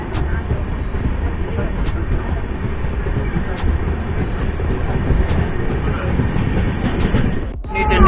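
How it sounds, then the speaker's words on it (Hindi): Janshatabdi Express train pulling out of Panipat Junction railway station in Haryana, a steady loud rumble of wheels and carriages throughout, with a brief dip near the end as it rolls on. "फाइनली दो मिनट हॉल्ट के बाद अपनी ट्रेन निकल चुकी हरियाणा के पानीपत जंक्शन रेलवे स्टेशन से"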